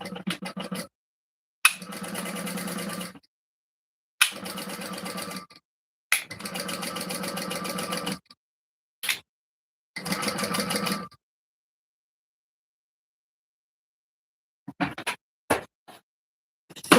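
Sewing machine stitching across a shoulder bag (purse) in several loud bursts of running stitches, separated by pauses, with a few short quick stitch bursts near the end; no talking.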